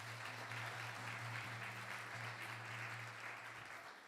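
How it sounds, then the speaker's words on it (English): A dense, steady wash of applause rolls through a live gathering in SF after a class by Ramajit Prabhu, sustained at even loudness for about four seconds with a faint low hum beneath it. "let's give a round of applause for Ramajit Prabhu for the class"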